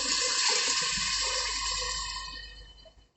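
Water pours in a continuous splashing stream into a cooking pot for rice, loud and close, then tapers off toward the end.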